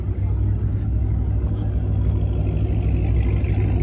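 Hellcat-swapped Dodge Challenger idling close by, a deep, steady, loping engine rumble that stays loud and even throughout.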